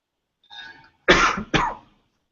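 A man coughs on purpose: a soft breathy sound, then two harsh, loud coughs in quick succession, heard close and alone.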